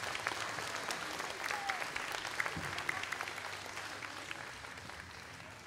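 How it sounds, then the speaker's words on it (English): An audience applauds pageant participants at an intermediate school event, a fairly faint, distant patter of clapping that tapers slightly toward the end. "Everyone, please give our participants a big round of applause."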